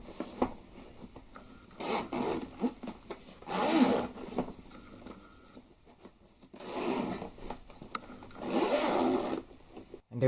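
A zipper runs along a soft-shell carrying case for a Holybro Kopis 1 drone, giving two close rasping bursts, a short one and then a longer drawn pull, with quiet handling between them and no talking.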